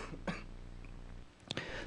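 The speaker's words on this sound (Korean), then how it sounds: "설교 도중에 기침을 간혹 하더라도 넓은 마음으로 이해해 주시면 감사드리겠습니다" A preacher coughs during a Korean church sermon, giving two short, faint coughs or throat-clears about a second apart over quiet room noise.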